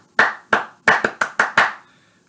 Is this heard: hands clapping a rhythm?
yes